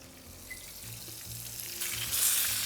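Burger patties sear in a hot pan with a steady frying hiss that swells louder toward the end, close-up, accompanied by a faint low hum.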